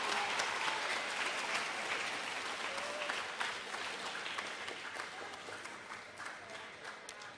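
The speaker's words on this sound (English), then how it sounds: "let's give a big round of applause to all of our 7th grade award winners" Audience at a middle school awards ceremony applauding 7th grade award winners, a sustained, even wash of many hands clapping that tapers slightly toward the end, heard from a moderate distance.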